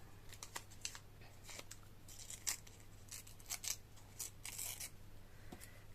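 Paper being cut with scissors in a quiet craft setting, a series of crisp, faint snips in irregular clusters.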